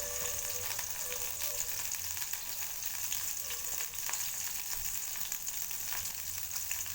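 Ginger and green chili fry in hot oil with a steady, close, continuous sizzle and crackle. A few soft stirring scrapes come through now and then.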